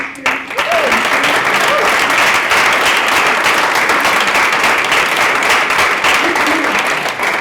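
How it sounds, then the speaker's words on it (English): Loud, dense audience applause at an Agape Latte gathering, starting abruptly and holding at full strength throughout, with a few faint voices mixed into the clapping. "let's just give one more round of applause"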